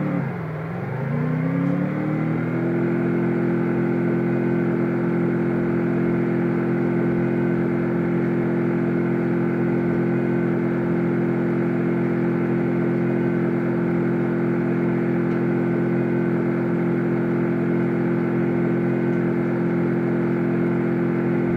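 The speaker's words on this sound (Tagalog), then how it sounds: "So, idadrive natin yung kotse." A car engine from the Free Fire mobile game, played on a Cherry Mobile Flare Tab Pro, revs up at the start and then settles into a loud, steady droning hum that holds unchanged throughout, with a brief spoken phrase.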